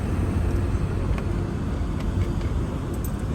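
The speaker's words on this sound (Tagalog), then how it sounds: "Sobrang haba ng traffic." Steady road traffic rumble on a long jam, a dense low-frequency wash of car engines that stays constant and fairly close, with faint passing noise and no talk.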